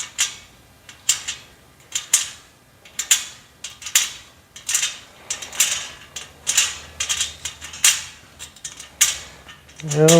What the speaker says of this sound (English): Okay, here we go, screwing this on.